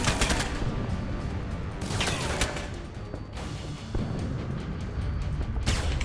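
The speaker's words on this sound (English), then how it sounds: "Goddamn turrets." Turrets in the video game Alpha Protocol fire continuous rapid automatic bursts, loud and close, with dense rattling shots and a brief lull midway before the barrage resumes.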